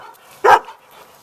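A big red dog gives a single loud, sharp bark, close by, standing out against quiet surroundings.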